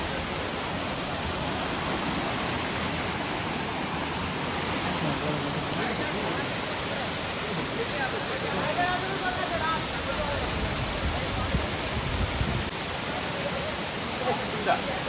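Bamni waterfall at Ayodhya Pahar in Purulia pours down as a broad, steady roar of rushing water that fills the scene evenly, with faint voices mixed underneath.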